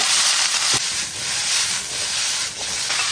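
Blanched lamb rolls hit hot rapeseed oil with spring onion in a wok, giving a loud, steady sizzling hiss that swells and dips over a few seconds with faint clatter, no talk.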